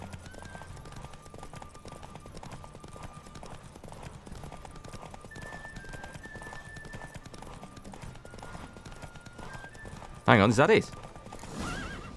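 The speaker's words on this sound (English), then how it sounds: "Don't spare the horse." Hooves clip-clop in a steady rhythm during a horse race in The Witcher 3: Wild Hunt, with a horse whinnying loudly near the end, while people talk over the game sounds.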